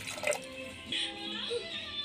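A small amount of water poured into a pot of cooking jackfruit and potato, a brief close splashing trickle lasting about two seconds.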